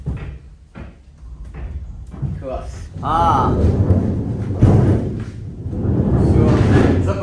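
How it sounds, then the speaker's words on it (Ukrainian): An observatory dome is closed after solar telescope viewing, with loud thumps and a sustained sliding rumble of heavy metal. People talk nearby throughout. "Будемо закривати купол."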